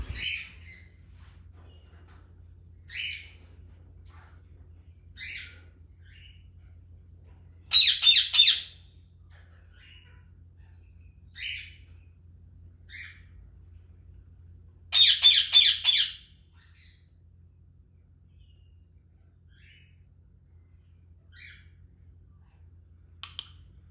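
Indian ringneck parrot giving loud flock calls: two strong bursts of repeated harsh squawks, each about a second long, among scattered short chirps and squeaks over a faint low hum indoors.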